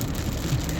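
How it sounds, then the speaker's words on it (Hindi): Steady rain falls on hard surfaces in a city in Afif, Saudi Arabia, a dense, even hiss with no voices. "बारिश माशाल्लाह तबारकल्लाह माशाल्लाह"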